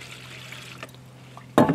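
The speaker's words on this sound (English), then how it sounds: "But I'm just going in and filling this with water." Water trickles and splashes faintly as it is poured into a plastic seed-starting tray outdoors, ending in a short, louder splash near the microphone.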